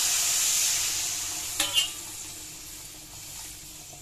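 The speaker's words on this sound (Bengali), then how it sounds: "আর এখন এতে দিয়ে দিব পরিমাণ মতন জল।" Water poured into a pan of frying semolina pulao makes a brief loud splash and hiss around the midpoint, over a steady sizzle.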